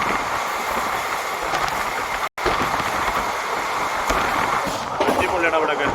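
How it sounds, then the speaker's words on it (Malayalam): A train near Ottapalam on the way to Palakkad rushes past close by with a loud, steady rumble and clattering wheels, with a brief dropout partway, while people talk over it. "അങ്ങനെ ട്രെയിൻ വന്നോണ്ടായിരുന്നു ഇപ്പായി."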